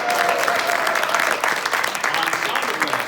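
Audience applause at a live old time radio show staging Miracle on 34th Street, a dense, steady clatter of many hands clapping throughout.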